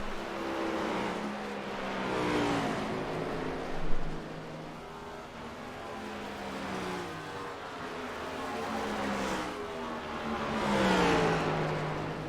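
Several NASCAR Next Gen stock car engines in a racing video game whine and rev continuously, rising and falling in pitch as cars sweep past, loud and without any talking.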